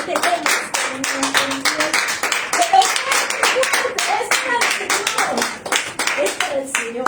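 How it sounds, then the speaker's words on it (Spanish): A church congregation claps in a dense, steady round of applause lasting several seconds, sharp hand claps close and loud, with voices and a child's speech mixed in underneath. "Pues denle un fuerte aplauso a nuestro Dios"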